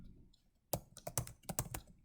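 Typing on a computer keyboard while entering a name into a spreadsheet form, a quick run of close, crisp key clicks in an irregular rhythm after a brief quiet moment.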